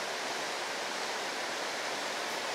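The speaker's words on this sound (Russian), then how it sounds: "ну подошли мы прям вплотную к водопаду" A river waterfall on the Pissa River in Kaliningrad region, heard up close from a rafting trip, gives a steady, dense roar of rushing water with no voices.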